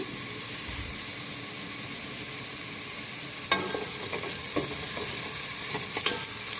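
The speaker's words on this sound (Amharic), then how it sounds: "እና ትንሽ ዘይት ጨመርኩበት በደንብ እንዲያቁላላሉ።" Food fries steadily in oil in a pan for a shrimp dish, with onions browning; a continuous close sizzle carries throughout, punctuated by a few sharper crackles and scraping clicks in the second half.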